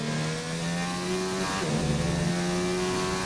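Racing car in a Formula-style video game accelerating hard out of corners, the engine note climbing in rising harmonic sweeps with a brief gear change midway, steady and alone.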